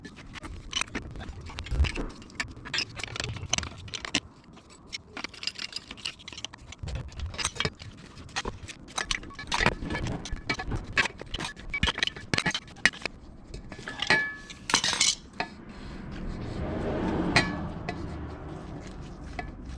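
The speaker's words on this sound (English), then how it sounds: "I'm going to use like the plumber's wrench" A plumber's wrench works on WRX coilovers, giving scattered metallic clicks, clinks and ratchety taps at irregular intervals, close and moderately loud with quiet gaps.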